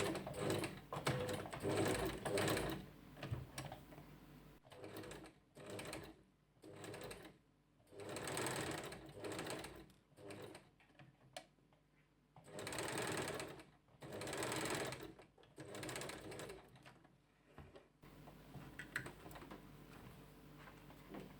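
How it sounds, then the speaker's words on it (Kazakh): A sewing machine stitches along both sides of a headscarf in about eight separate runs of steady, rapid whirring, each lasting a second or two, with short pauses between them. The machine is close and clear, with no talk. "Осылай орамалымыздың екі бетін тігіп аламыз."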